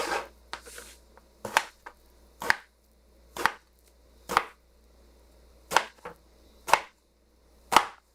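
A knife cuts lengthwise through an eggplant on a cutting board, about ten crisp chops landing at uneven intervals, close and clear with quiet gaps between, no speech.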